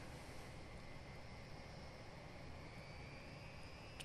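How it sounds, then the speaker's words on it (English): An Avro RJ85 jet engine spools up in the Prepar3D flight simulator, a steady broadband roar with a faint rising whine, constant and unbroken with no voices. "Start master on, select number 4, start the engine"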